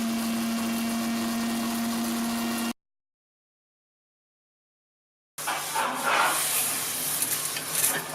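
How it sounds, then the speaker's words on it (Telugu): A kitchen mixer grinder whirs steadily as it grinds roasted, husked peanuts, a constant motor drone that cuts out to silence, then resumes with rougher, louder churning. "పల్లీలు మిక్సీ చేసి తీసి ఉంచాలి."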